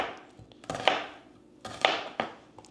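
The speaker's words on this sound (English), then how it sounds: "So I'm just going to dice those up kind of in, 1/4-inch chunks." A knife dices pheasant-fajita vegetables into quarter-inch chunks on a cutting board, giving two sharp, close chops about a second apart, each with a short scraping tail, with no talking.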